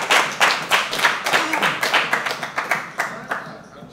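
Applause at a fighters' weigh-in ceremony: a moderate crowd claps in a loose, fairly rhythmic series of sharp hand claps, close and clear, gradually thinning toward the end.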